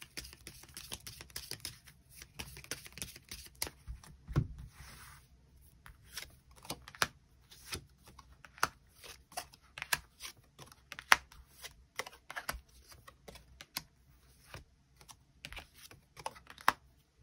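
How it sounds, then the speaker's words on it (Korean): Tarot cards are shuffled and drawn close up in a quiet room, with soft, irregular crisp taps and flicks scattered across the whole stretch. "카드 뽑아보도록 하겠습니다."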